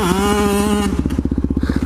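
A 2-stroke supermoto motorcycle at a wheelie spot holds a loud, high engine tone, then drops to a rapid, pulsing putter, close by with no voices.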